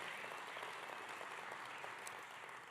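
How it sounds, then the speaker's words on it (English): An audience claps at a Motor Trend SUV of the Year announcement, a faint, steady spatter of many hands continuing without pause. "clap if you want"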